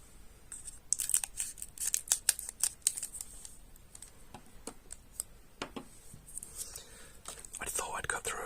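Scissors snip and slice through a Magic the Gathering booster pack wrapper, close crisp cuts and crinkling plastic in quick irregular bursts, with a soft voice speaking quietly throughout.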